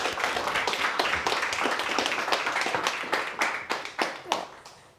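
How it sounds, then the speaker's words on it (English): Audience at a university guest lecture clapping for the speaker, a dense round of applause that thins out into a few scattered claps at the end, moderately close. "you all please give a big applause to our guest"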